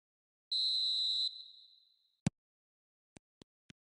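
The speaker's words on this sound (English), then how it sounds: "There's the whistle." A referee's whistle blows once at kickoff in the football video game eFootball 2026, a long shrill blast that trails off, followed by a few sharp clicks.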